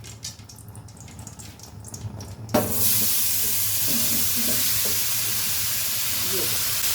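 Carrots hitting melted ghee in a pan for carrot halwa give a sudden loud burst of sizzling. A steady, hissing fry then runs on, with faint stirring clinks.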